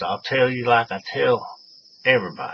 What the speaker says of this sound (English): I seem to have a cricket down here in my shop.